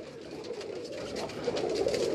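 Kabli pigeons on a Karachi rooftop coo in a dense, continuous chorus, several birds overlapping closely with no pause.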